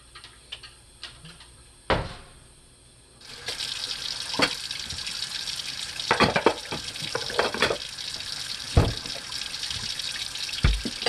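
Water runs steadily from a hot water tap, a continuous hiss that starts a few seconds in, with scattered clunks and knocks over it.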